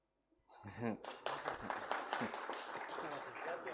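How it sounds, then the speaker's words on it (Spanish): A conference audience applauds the speakers: dense, sustained clapping from many hands rises quickly and carries on steadily, with a voice briefly heard at the start. "espero que haya sido un aplauso para ellos"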